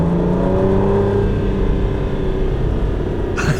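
A 2005 Aston Martin DB9 engine holds a steady, loud rev with a thin mechanical whine riding over the low drone, heard close and alone without voices.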